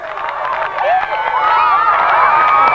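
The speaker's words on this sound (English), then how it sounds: "The crowd very parochial, making a lot of noise here" Crowd noise from a 1998 Mediterranean Cup football match between Italy and Lebanon, a loud stadium roar with overlapping shouts and whistles that swells and holds for about three seconds.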